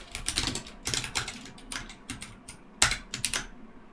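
Quick bursts of keystrokes on a computer keyboard while code is typed, clattering in uneven clusters with short pauses between them, close and clear with no talking.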